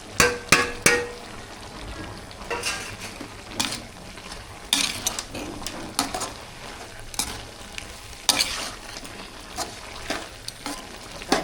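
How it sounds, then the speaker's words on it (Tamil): Kadaknath black chicken curry pieces being stirred with masala in a pan, sizzling steadily while a spoon scrapes and clanks in repeated bursts against the metal throughout, close and moderately loud with no talking. "கூட மசாலா சேர்த்து நல்லா கலந்து விட்டுக்கலாம்"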